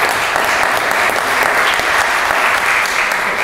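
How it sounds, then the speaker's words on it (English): Audience applauding the speakers at an evening legal-practice talk, a loud, full round of clapping from a packed room, sustained and even for the whole stretch. "Let's start with a round of applause"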